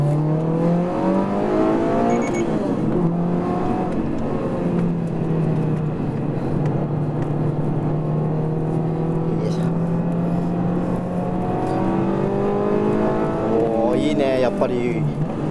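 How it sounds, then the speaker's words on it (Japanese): A Toyota GR86 with HKS tuning and a changed final drive accelerates hard around the Tsukuba circuit, its engine note rising steadily and droning loudly throughout, with a driver talking over it. "やっぱりファイナルが変わってるということで加速いいです。"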